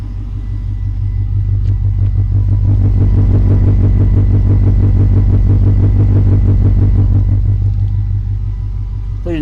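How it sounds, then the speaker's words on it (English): A 2000 Saleen Mustang's engine rumbles loud and close at idle, swelling into a sustained rev with a choppy, lumpy exhaust pulse before settling back down. "It's a very unique sound for a Mustang."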